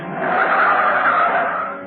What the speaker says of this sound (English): Car number 9, driven by Constable Maxwell and crewed by Warrant Officer Pringle, arrives outside Delano Court